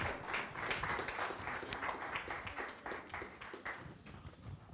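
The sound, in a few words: audience applauding the mayor and municipal council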